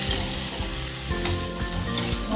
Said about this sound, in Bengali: এরপর আলুটা বেশ ভালো করে নাড়াচাড়া করে নিই